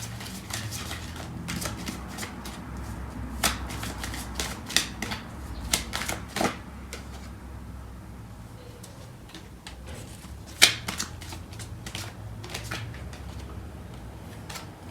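Tarot cards shuffled and laid out, a steady papery riffle broken by sharp taps and flicks of cards landing, close and fairly quiet, with no voices.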